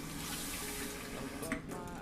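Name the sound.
water poured into pot for cooking rice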